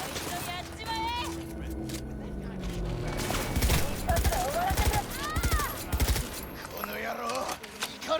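Gunfire in the video game Cyberpunk 2077, with bursts of shots rattling across the clip amid busy game sounds, music and effects, and a voice talking over it.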